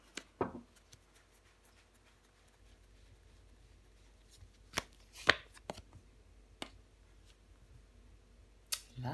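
Tarot cards are handled and laid down on a table in short, scattered soft slaps and shuffles, faint and close, separated by quiet gaps.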